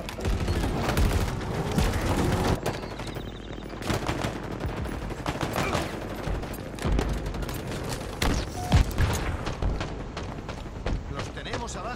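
Halo combat gunfire crackles steadily, with machine-gun bursts and heavy booms layered over continuous battle noise. A player talks over much of the shooting.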